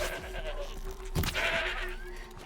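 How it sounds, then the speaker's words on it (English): Mountain sheep in Horizon Zero Dawn let out a harsh, drawn-out bleat midway through, rising over a steady hum of game ambience and wind. "We get to hunt mountain sheep now."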